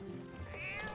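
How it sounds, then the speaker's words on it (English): A cat in the video game Twilight Princess lets out one close, drawn-out meow with a rising then falling tone, over soft game background sound. "Cat."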